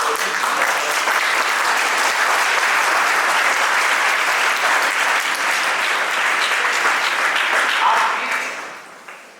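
A large audience at a spiritual discourse breaks into sustained applause, a thick, even roar of clapping lasting about eight seconds before tapering off quickly.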